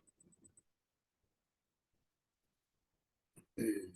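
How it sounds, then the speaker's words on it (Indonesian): A person coughs, with faint muffled sounds first, then after a silent pause a short throat-clearing and a loud rough cough near a microphone during a morning prayer service. "Batuk-batuk."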